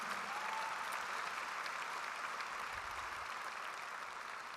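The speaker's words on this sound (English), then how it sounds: "So please give Curtis a big round of applause for" An audience at a national memorial ceremony applauds with a sustained, even wash of clapping at moderate distance that holds steady throughout.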